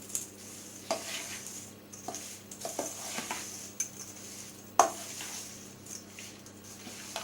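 A spoon clinks and scrapes in a bowl, stirring cherries with a tablespoon of coffee, with a few sharp taps over a steady low background hum, nearby and moderately quiet.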